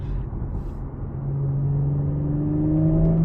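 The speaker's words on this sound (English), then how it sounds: "this has to be one of the nicest sounding V6 engines ever" A 2023 Audi S5 coupe's V6 engine revs up from a low rumble, its tone rising steadily as it accelerates, heard close from inside the car without talking.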